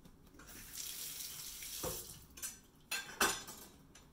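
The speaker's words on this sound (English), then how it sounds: "rinse my knife" A kitchen knife is rinsed under a running tap at a sink, with a steady hiss of water, splashing surges, and brief clinks of metal against the basin, close and moderately quiet.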